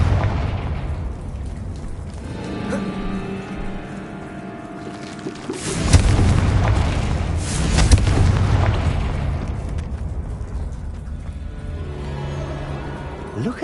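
Fiery Confringo spell blasts in the Hogwarts Legacy video game, a loud booming burst of explosions around the middle, with rumbling impacts and crackling over a steady game backdrop.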